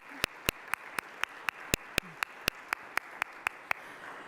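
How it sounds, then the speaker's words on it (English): Claps ring out in a hall as high school students are honored, crisp and evenly spaced in a steady beat of roughly four per second, moderately loud over a quiet background. "So let's give them a round of applause."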